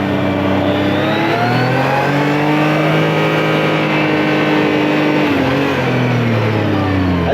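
A Yamaha YXZ side-by-side with a free air box mod revs loudly and continuously up close on a test drive. The engine pitch rises and falls as it accelerates, with no talking.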